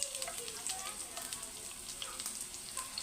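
Garlic, onion and green chillies frying in hot salted oil in a pan, giving a steady soft sizzle and crackle with occasional stirring scrapes, close and moderately quiet, with no talk.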